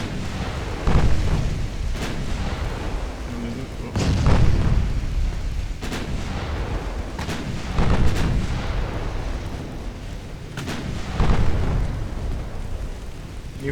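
Warship main guns firing in the naval battle game Ultimate Admiral Dreadnoughts, several heavy booming salvos spaced a few seconds apart over a continuous low rumble of battle noise.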